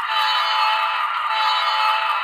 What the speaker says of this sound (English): All right, here is the horn.